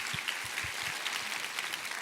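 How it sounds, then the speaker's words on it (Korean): A church congregation applauds during a Sunday service, a dense, steady wash of clapping from many hands filling the room at moderate loudness. "우리 하나님께 감사와 영광을 박수로 올려드리겠습니다."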